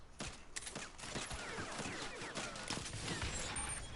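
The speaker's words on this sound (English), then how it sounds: "Who the fuck shooting at me?" Rapid gunfire in the Saints Row video game on PS4, a dense clattering run of shots that goes on throughout, with a voice talking over it.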